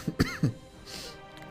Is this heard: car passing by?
no